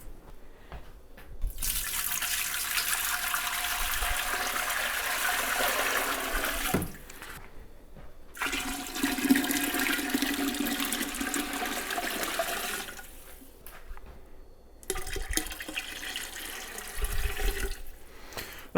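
Tap water runs into a pot being filled with 2.5 gallons for homebrewing a Kolsch, a steady rushing pour in several bursts separated by brief pauses as the flow is stopped and restarted, close and moderately loud with no talking.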